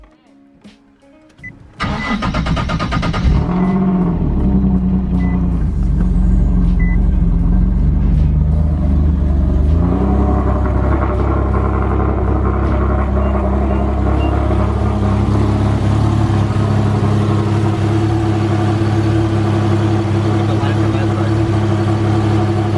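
A turbo Nissan 370Z, recently leaking oil, cranks briefly and fires up, then settles into a loud, steady running idle with a slight rev change around the tenth second, continuing close by to the end.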